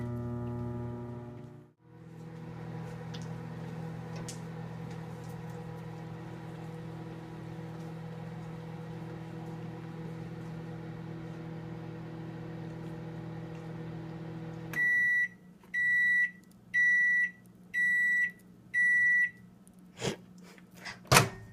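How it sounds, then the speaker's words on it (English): A microwave oven hums steadily for about fifteen seconds, then stops and gives a series of five evenly spaced loud beeps, followed by a couple of clicks from its door, close by with no talking. "My microwave does really well on 11 minutes."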